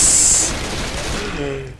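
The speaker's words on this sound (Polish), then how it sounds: "chodź robimy fajerwerki, patrz, patrz" Rapid crackling bursts of fireworks going off in Left 4 Dead, loud and close at the start, then fading into a rumbling tail.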